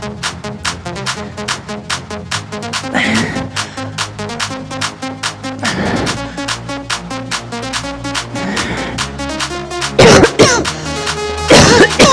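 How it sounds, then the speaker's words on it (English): A person in a virtual workout class coughs or clears their throat a few times, sharp short bursts that cut over steady, rhythmic backing music. "I hear my little cough"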